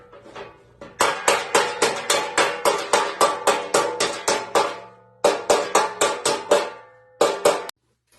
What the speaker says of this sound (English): we'll take a big wide dolly like this and basically dolly shrink onto that curvature